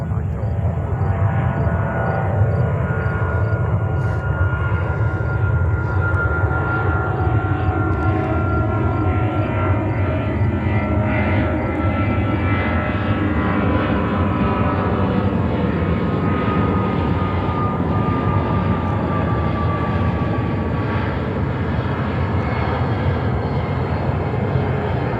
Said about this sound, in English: American Airlines with a 777-200